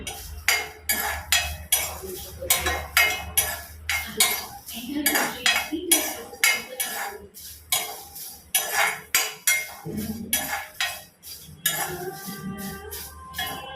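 Curry leaves dry roasting in a pan for Mangalore-style chicken sukka, with repeated metallic clinks and scrapes of a utensil against the pan in a steady, busy rhythm, close and fairly loud.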